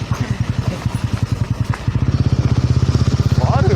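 A motorcycle pulls up a hill road with a steady, pulsing engine beat that grows louder and quicker toward the end, close and prominent.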